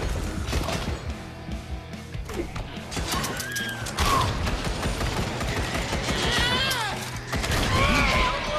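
Shotgun buckshot blasts and mechanical reloading clatter in the VR zombie shooter Zombieland: Headshot Fever, set among dense game noise, with growls and a music bed running throughout.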